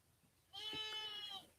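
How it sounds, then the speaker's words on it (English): A young lamb bleats once in a drawn-out, wavering cry that rises midway through, heard from a short distance in the background with no talk over it. "y'all hear that baby sheep in the background?"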